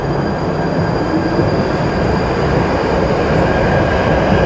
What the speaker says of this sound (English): now the train is departing for Morden